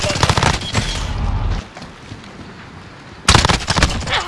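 Bursts of automatic gunfire from a P90 in a first-person shooter video game, loud and rapid, pausing for about two seconds before another dense burst.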